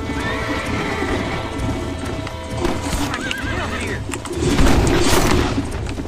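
A horse in a video game neighs clearly over steady clip-clop hooves, with cooing pigeons and birdsong in the background, and the hooves grow louder near the end.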